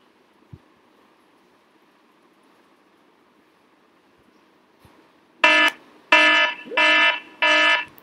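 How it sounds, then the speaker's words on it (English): Four loud, evenly spaced electronic alarm beeps from face mask detection software, triggered by an unmasked face, sound after several seconds of near silence, each a harsh, buzzy tone lasting about half a second. "Right now I am without mask. That is why we can able to hear alarm."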